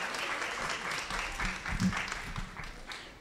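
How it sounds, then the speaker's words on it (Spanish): Audience applause at a children's and youth storytelling contest award ceremony, a steady wash of many hands clapping throughout with voices mixed in. "un aplauso, por favor, para los 3 ganadores de la categoría juvenil"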